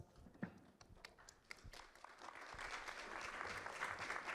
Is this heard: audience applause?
yes